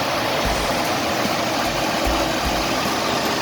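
A Nissan Maxima engine running with its cooling fan spinning: a steady, close, broadband whoosh over a low, faintly knocking engine hum, without pause.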